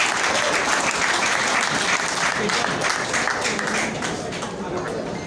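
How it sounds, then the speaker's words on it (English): Audience applause welcoming the curator at the opening of the Davao Art Fest, a dense, steady wash of many hands clapping that holds throughout and eases slightly near the end. "A resounding applause, please."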